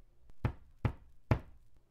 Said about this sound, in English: He stopped as a loud knocking came through the door.